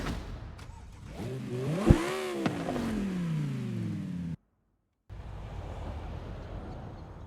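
BMW M3 in Forza Horizon 5 revs up with a rising, falling engine note and a sharp shift blip, cuts out briefly, then resumes as a steady drive with wind noise.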